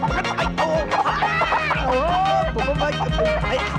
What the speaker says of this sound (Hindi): पकड़ो अरे ओ मेरी मुर्गी